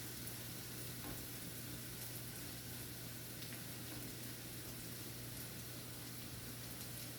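Masala sizzling in a pan as prawns are roasted for chemeen roast, a faint, steady hiss and fine crackle with a low constant hum beneath and no voices.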